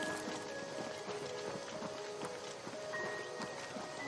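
In the Oblivion Remastered VR video game, rain falls in a steady, even hiss of many small drops, continuous and moderately quiet. A faint tone runs beneath it, and nobody speaks.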